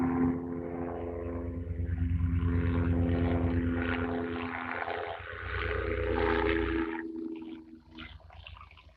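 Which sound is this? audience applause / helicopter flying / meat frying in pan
helicopter flying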